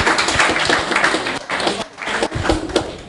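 A church congregation claps loudly and densely, a thick continuous patter of many hands with a few heavier thumps, briefly thinning before surging again.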